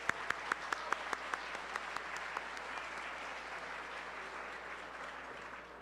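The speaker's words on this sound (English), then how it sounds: "Let's give them all a round of applause." Fairly faint applause from an audience at a Calabrian heritage event, a few crisp claps standing out at first before it settles into a soft, steady patter that slowly dies away.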